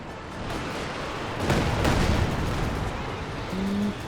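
Artillery barrage and mortar fire in the real-time strategy game Company of Heroes 2: a steady rumble of distant impacts swells into a heavier cluster of blasts in the middle, set against low battlefield noise.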